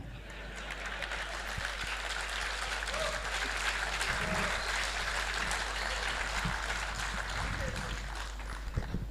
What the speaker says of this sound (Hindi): आप लोगों ने तालियां बजाई